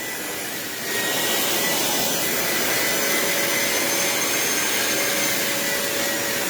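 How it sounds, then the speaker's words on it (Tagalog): Household vacuum cleaner roars close and loud, steady after a brief ramp-up in the first second, with a constant whining hum and no talking. "Pinapakita ko sa inyo paano ako mag-vacuum."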